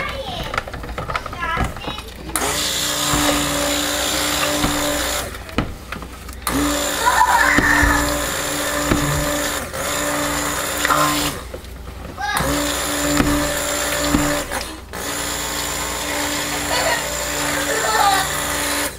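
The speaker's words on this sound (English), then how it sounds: "I think my stick blender's about had it." A stick blender whirs through soap batter in a home soap-making session, its motor sounding strained and worn out, running in long continuous bursts with brief stops, loud and close, with a voice now and then in the background.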